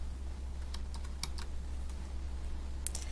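Keys on a computer keyboard tapped out in a few scattered, faint clicks while a search is typed, over a steady low hum.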